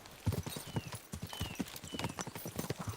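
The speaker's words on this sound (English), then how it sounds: "We should spur the horses on." Horse hooves clip-clop in a brisk, steady rhythm in Kingdom Come Deliverance II, several horses moving together at close range, with faint creaks over the hoofbeats.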